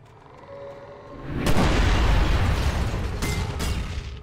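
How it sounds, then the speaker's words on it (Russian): Explosions in the video game Alan Wake Remastered: a loud boom erupts and rolls into a sustained rumbling blast, with another sharp burst near the end. "Что-то взрывается."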